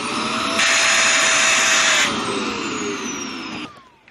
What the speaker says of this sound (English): when I turn this on, it still makes a sucking noise